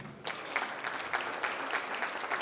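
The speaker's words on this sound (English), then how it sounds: "Please give yourself a round of applause" Audience at a youth empowerment foundation gala applauding, a steady wash of many hands clapping at moderate distance that starts abruptly and holds evenly throughout, with no voices over it.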